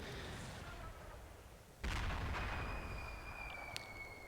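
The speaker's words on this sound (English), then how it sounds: "75mm artillery hits their targets" In a WWII wargame battle at Cheneux, 75mm artillery fire lands as one heavy booming impact, followed by a loud rolling rumble with thin whistling tones above it.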